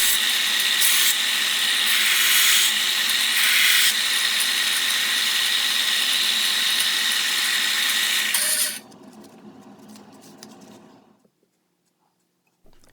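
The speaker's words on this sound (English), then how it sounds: "I'm starting to shape the handle with a coarse belt on the 4-inch belt sander" A 4-inch belt sander with a coarse belt, shaping a knife handle, roars loudly and steadily, grinding with surging pitch, then cuts out and winds down to near silence.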